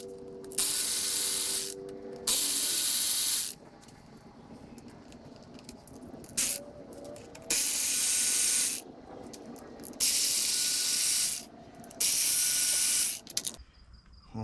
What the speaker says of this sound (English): All I gotta do is just remove these two little torque screws